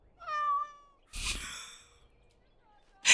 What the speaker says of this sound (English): Why he is meowing?